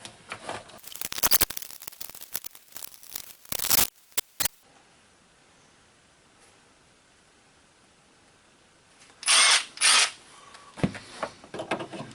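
A power tool tightens the front lower engine mount bolts on a 2000 Honda Civic. There are loud, close bursts early on, then a quiet stretch, then two strong bursts and a few shorter ones near the end.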